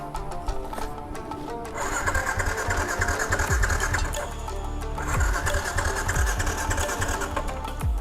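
A Ysuku motorcycle with an error 1 fault whirs through loud, repeated starter-cranking bursts, separated by short pauses, and the engine never catches.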